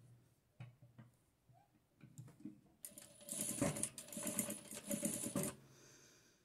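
A sewing machine stitches the leg of a long-legged fabric doll, a dense mechanical whirring run of about three seconds after some quiet handling clicks, close and fairly loud, set to its smallest stitch.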